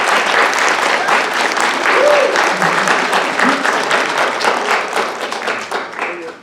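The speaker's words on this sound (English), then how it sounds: "perhaps those graduating today would like to express their appreciation to their loved ones right now with a round of applause" A graduation convocation audience at the University of New Mexico English department breaks into loud, sustained applause, many hands clapping densely together before the clapping gradually thins and fades toward the end.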